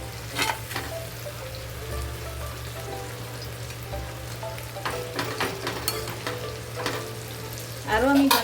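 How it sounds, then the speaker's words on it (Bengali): Pomfret fish frying in a pan gives a continuous crackling sizzle with occasional pops and a low steady hum beneath. A louder burst of spatter comes near the end, heard up close with no talking. "এভাবে করে ভালো করে ফ্রাই করে নিতে হবে"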